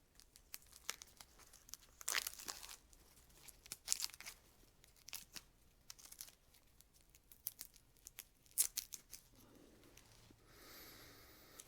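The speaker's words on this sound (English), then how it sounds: "Obviously you can peel off these dodgy looking outer leaves, if I can find the edge of it." Outer leaves are peeled and torn off a freshly harvested lemongrass stalk up close, giving irregular dry crinkling rips and crackles in short bursts, fairly quiet, with no talk.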